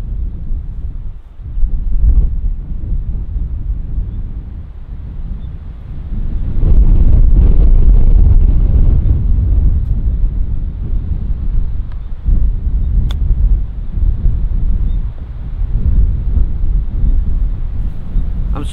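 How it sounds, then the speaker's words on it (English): Strong, stiff wind buffets the microphone outdoors on a golf course, making a loud, continuous low rumble that surges and eases without a break, with no talking. "I don't know how good the sound is because the wind is so stiff today."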